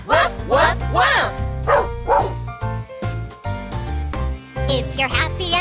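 Dog barks in a children's farm-animal song, likely sung by voices imitating the dog as repeated short woofs in bursts, loud and close over cheerful backing music.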